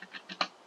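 A few quick taps on a computer keyboard during a Minecraft session: three light keystrokes in under a second, the last one sharpest, close and alone with no talk.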